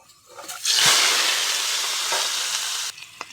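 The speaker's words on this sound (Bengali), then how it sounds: "তেল আলুটা এখন ভেজে নেব দিয়ে দেব আলু" Potatoes drop into hot oil in a pan and burst into a loud, bright sizzle that holds steady for a couple of seconds, then cuts off abruptly, with light clinks before and after.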